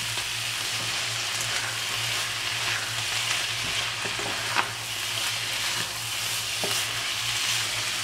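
A fish, shrimp and squid filling for spring rolls fries and is stirred in a pan with soy sauce, giving a continuous dense sizzle with occasional scraping stir sounds and a steady low hum underneath.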